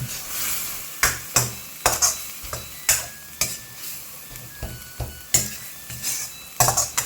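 Sizzling stir-fry of pork belly in curry paste with repeated sharp scrapes and clacks of a spatula against a pan, a steady rhythm of strokes roughly every half second.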